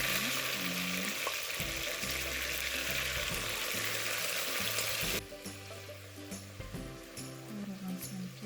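Meat sizzling in hot oil in a heated kazan, a steady broadband fry that drops lower partway through, with occasional stirring clatter and a voice speaking over it.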